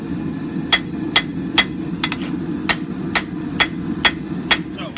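Hot steel is hammered on the face of an anvil while a large tomahawk is forged from a ball peen hammer. About nine sharp, ringing blows land at a steady, even pace over a constant low roar in the background.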